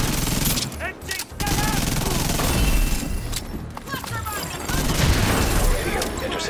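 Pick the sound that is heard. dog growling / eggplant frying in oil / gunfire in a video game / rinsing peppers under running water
gunfire in a video game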